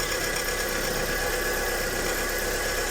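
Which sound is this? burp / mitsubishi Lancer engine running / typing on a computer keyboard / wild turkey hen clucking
mitsubishi Lancer engine running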